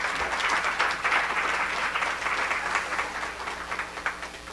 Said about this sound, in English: So if you would give those folks a round of applause as well.